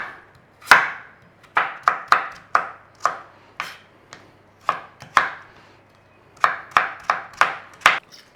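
Carrots are cut into cubes with a knife on a board, giving about sixteen sharp, close chops. They come in uneven bursts with short pauses between them and no talk.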